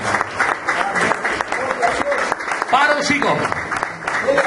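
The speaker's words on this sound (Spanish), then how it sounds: "Denle un aplauso al Señor." Church congregation applauding during a Spanish-language sermon, a dense burst of clapping mixed with voices and a preacher speaking over it.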